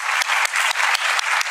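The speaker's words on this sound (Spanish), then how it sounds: "quiero pedir un caluroso aplauso" A crowd at the FIL book fair gives the Padilla family a warm round of applause: loud, dense, steady clapping that fills the whole moment with little else audible.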